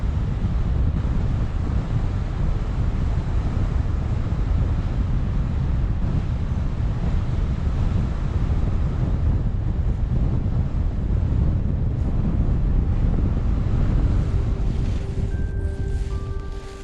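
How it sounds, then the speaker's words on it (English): Strong, gusty wind roars steadily and loudly during a paramotor's descent and landing, buffeting continuously in turbulent air with no voices. "I was quite surprised by how gusty and turbulent the air was and strong"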